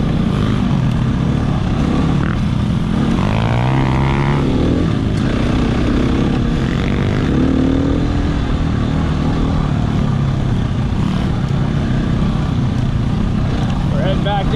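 Apollo RFZ dirt bike ridden through woods toward a gravel pit, its engine droning steadily and loudly throughout with rising and falling revs, and a brief voice sounding partway through.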